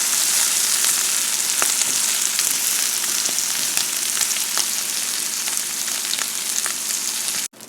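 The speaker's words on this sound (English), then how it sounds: "I'm going to cook this down until the meat starts getting a little bit brown on the edges" Meat browning in a hot pan gives a steady, close, loud sizzle with scattered sharp pops and crackles throughout, no voices, ending in an abrupt cut.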